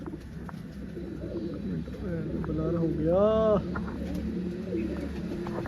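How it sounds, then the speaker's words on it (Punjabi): A pigeon coos once, close by, a low throaty warble under ongoing talk, with faint background noise. "ਬੈਠ ਗਿਆ ਕਬੂਤਰ"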